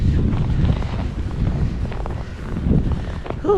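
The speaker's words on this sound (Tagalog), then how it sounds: "Medyo malakas yung hangin ngayon." Strong gusty wind buffets the microphone outdoors on a walk in Finland, a steady low roar with rustling that swells and eases throughout, with no voices.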